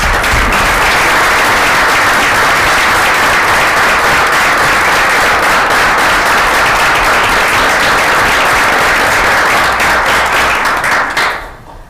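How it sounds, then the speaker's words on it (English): Loud, sustained applause from a school board meeting audience as grant-winning teachers stand, dense clapping continuing evenly before cutting off sharply at the end. "if you received a grant this year, if you could stand up for a quick round of applause"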